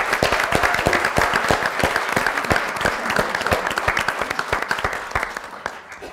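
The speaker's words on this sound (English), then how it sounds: "Let's give them a round of applause for that." Audience applause after a martial arts demonstration at a symposium, a dense burst of many hands clapping loudly and continuously for about six seconds before gradually thinning out.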